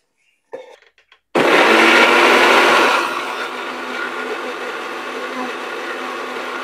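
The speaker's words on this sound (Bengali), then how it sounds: "আমি এখন মশলা ব্লেন্ড করে নিব, পেঁয়াজ, রসুন এবং আদা।" Electric blender grinding onion, garlic and ginger into a spice paste: a loud, steady whirring roar starts abruptly after a few light clicks and settles to a slightly lower, even drone, with no talk.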